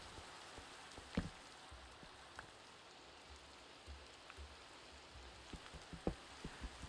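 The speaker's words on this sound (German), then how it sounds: "Es regnet hier so viel wie bei uns daheim hier" Steady, soft rainfall in Minecraft with a shader pack, a constant hiss and occasional louder drops, no voices.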